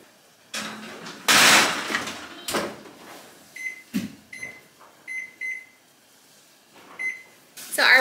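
A microwave-style oven in a home kitchen, with loud door and cupboard clatter, several short electronic beeps in a run, and knocks and glassy clinks between quieter gaps.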